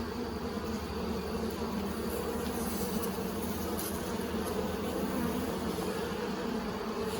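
Honeybees from an opened nuc hive hum in a dense, continuous buzz, fairly quiet and unbroken, with no talking.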